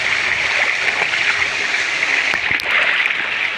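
Water pours and splashes steadily into a container to fill it for washing clothes, a loud continuous rushing with small splatters near the end and no voices.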